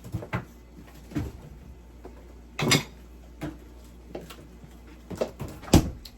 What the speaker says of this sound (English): this is looking pretty good. Gotta keep stirring.